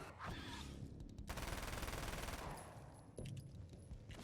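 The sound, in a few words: gunshots in the video game Alan Wake's American Nightmare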